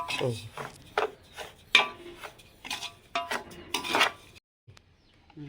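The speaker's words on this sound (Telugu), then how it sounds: "స్లో ఫైర్లో పెట్టుకొని తిప్పుకుంటా" Semolina (rava) roasting in a pan over low heat, stirred with repeated scraping strokes in an uneven rhythm, close and clear, then stopping abruptly.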